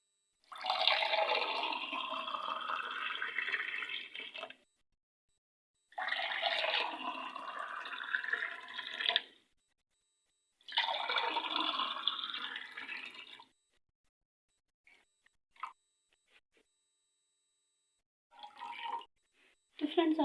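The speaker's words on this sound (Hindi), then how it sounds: "हम इसे गिलासों में निकाल लेते हैं।" Grape juice, strained of skins and seeds, is poured into glasses in a home kitchen: three separate steady liquid pours of a few seconds each, close and clear, followed by a few faint clinks and light handling sounds.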